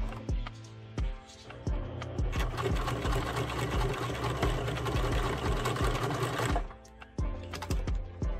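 A sewing machine stitches down the strap of an adjustable bow tie in a steady, rapid mechanical run of about four seconds. Slower clicks and handling taps come before and after the run.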